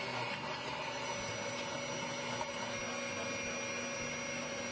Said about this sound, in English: also grinding the leftovers from the fish bouillon